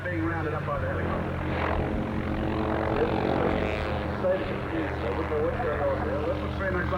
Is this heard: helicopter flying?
yes